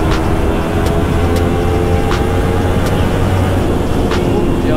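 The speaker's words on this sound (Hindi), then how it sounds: "हेलमेट का वाइजर खोलो तो एग्जॉस्ट का साउंड" Steady, loud engine drone with a constant low rumble throughout from a Kawasaki Ninja 300 motorcycle exhaust heard up close while riding in Ladakh, helmet visor open, with wind roar mixed in.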